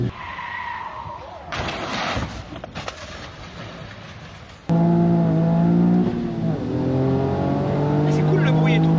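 Voices talk over a muffled rush, then a Toyota Yaris GR driven hard roars in loud and close, its engine droning steadily with tire noise for the remaining seconds.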